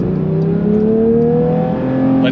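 Porsche 992 911 GT3 Touring with a naturally aspirated 4-liter flat-six accelerating, a smooth rising engine tone climbing steadily through the revs, loud and close from inside the car, with no talk.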